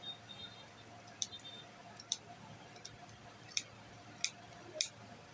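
Scissors snip through fabric to open a welt pocket, a series of quiet, close, crisp cuts spaced irregularly over faint room hush.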